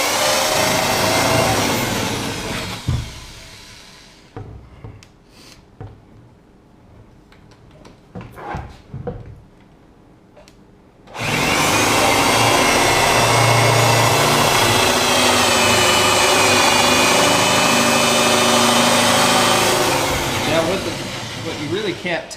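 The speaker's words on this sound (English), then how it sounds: "go ahead and do the old spade bit. Just so you can see the difference on how it acts in hardwood here" A drill boring into hardwood with a spade bit, run as a Bosch Daredevil versus Irwin SpeedBor comparison: a loud, steady broadband grinding whine for about three seconds, a stretch of quieter knocks and handling noise, then another long sustained loud drilling run.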